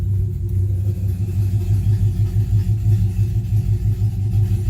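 Car exhaust running through a cheap electric exhaust cutout that has just been opened, giving a loud, deep, steady rumbling idle with a pulsing low drone throughout and no talk.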